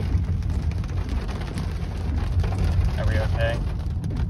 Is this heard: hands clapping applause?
no